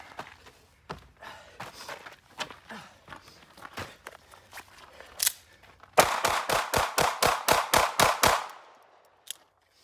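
A person does step-ups and box jumps while wearing a sticky holster with a gun: irregular soft footfalls for several seconds, then a fast run of about ten loud, sharp landing thumps, close and alone.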